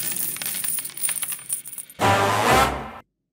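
A coin drops and bounces with bright metallic jingling, then spins and rings out before stopping abruptly into silence.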